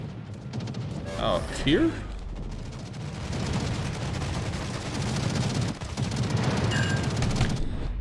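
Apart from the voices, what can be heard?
naval gunfire from a warship in the video game World of Warships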